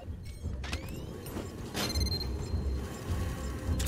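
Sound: door locks unlocking mechanism in video game Aliens Fireteam Elite

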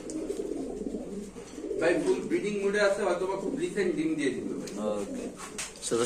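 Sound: pigeons cooing

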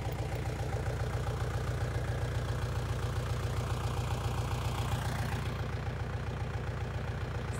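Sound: Lovol four-cylinder tractor engine pulling disc harrow

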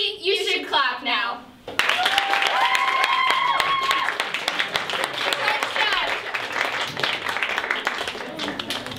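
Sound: theatre audience applause

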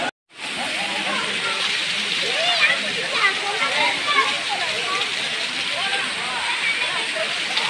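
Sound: Aintharuvi waterfall at Kutralam falling

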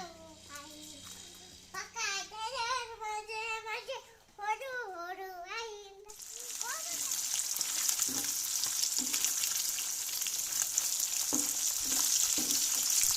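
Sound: fish frying in a pan

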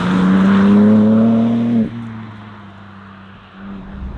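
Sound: BMW M4 Convertible Competition xDrive engine accelerating

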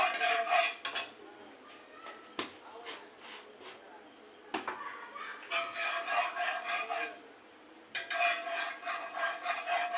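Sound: semolina being roasted and stirred in ghee in a pan

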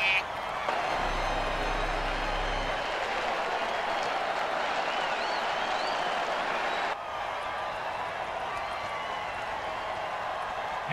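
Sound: crowd cheering at a football game

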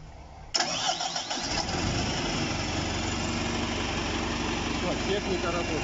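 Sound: tracked ROYAL 149 concrete pump engine starting

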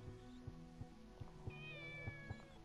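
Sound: cat meowing in the video game Shenmue

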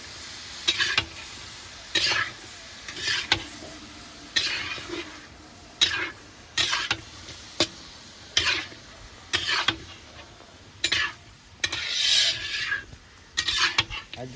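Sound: grinding onion, green chilli, ginger, garlic into spice paste

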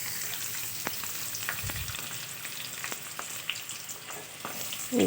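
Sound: chopped onion frying in hot oil in a wok

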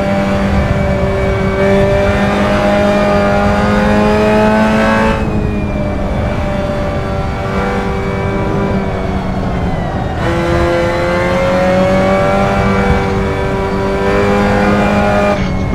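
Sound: Mazda MX-5 Cup race car engine revving, Assetto Corsa video game

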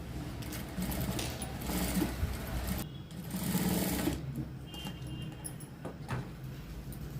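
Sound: sewing machine stitching a blouse placket

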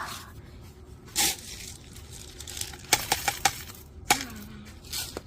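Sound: scissors snipping while potting plants

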